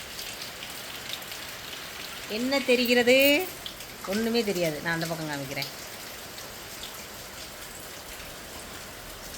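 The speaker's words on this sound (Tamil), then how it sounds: "மழை அடிச்சுக்கிட்டு ஊற்றுது." Heavy rain pours steadily as a constant hiss and patter on surfaces, with people talking over it in the middle before the downpour carries on alone.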